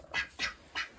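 Chickens in a backyard coop let out four short, harsh squawks in quick succession, close and moderately loud, with no talking between the calls.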